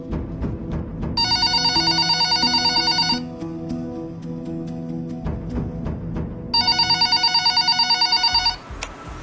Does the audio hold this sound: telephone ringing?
yes